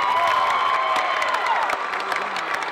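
A high school boys basketball crowd in the home gym cheers loudly and steadily, with whistling and shouting layered over a sustained roar that fades slightly toward the end.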